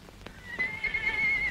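A horse neighs with a long, high whinny while hooves clip-clop over a background of street noise, in a 1960 Mexican film.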